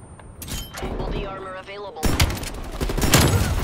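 Shotgun blasts in Call of Duty Black Ops Cold War online multiplayer, several loud sharp bursts in quick succession with a pause between volleys, alongside game noise and a voice talking and laughing.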